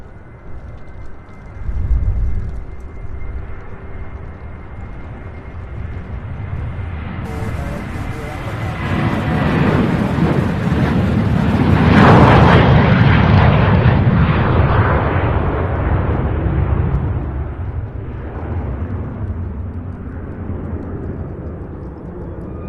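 A Southwest Airlines jet at Louisville International Airport rolls for takeoff, a broad engine roar swelling from a distance to a loud peak and easing off, with a voice talking over it.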